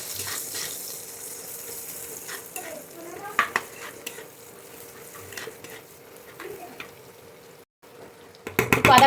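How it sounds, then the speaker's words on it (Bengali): Ginger sautéing in a pan with salt and turmeric, quiet sizzling broken by scattered clinks and stirring scrapes of a utensil against the pan, a sharper clatter near the end. "একটু আদা কষে দিলাম"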